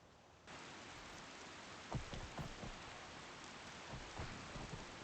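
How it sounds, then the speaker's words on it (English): Steady rain falls on an outdoor surface, a dense continuous hiss with scattered louder drops, heard alone with no voices. "Ah, and it rains yet."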